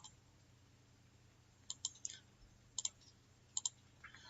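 Computer mouse clicks while selecting objects in Microsoft Publisher: a few sharp, close clicks coming in quick pairs over a quiet background, with no talking.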